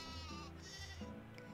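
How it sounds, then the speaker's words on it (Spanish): A lamb in the farming game My Time At Portia bleats, short wavering bleats heard faintly under low background game music, with no talk. "Qué mono es el corderito"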